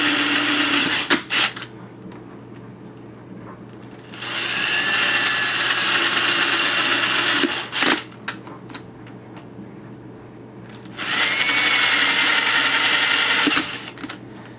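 A power drill whines in two long bursts, close and loud, with short clicks and pauses between them and no one speaking.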